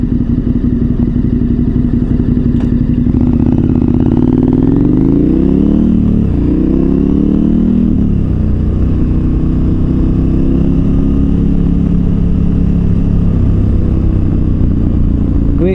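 A KTM 1290 Super Adventure R motorcycle accelerates hard, its loud engine note rising in pitch and then dropping sharply at each quickshifter gear change, a steady close roar throughout.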